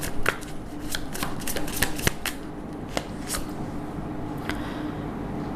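Tarot cards are shuffled in quick, crisp riffles and snaps, loud and close, with a steady low hum running underneath throughout.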